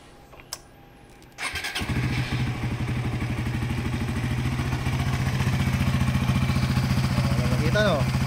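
A Suzuki GSX-R150 motorcycle engine cranks and starts after a click, then settles into a loud, steady, close idle that keeps running throughout, with faint talk at the end.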